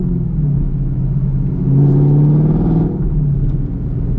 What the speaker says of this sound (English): Man, that exhaust.